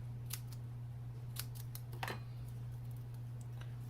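Scissors cut small pieces of dimensional adhesive foam in a few quick, separate snips, close and fairly quiet over a steady low hum.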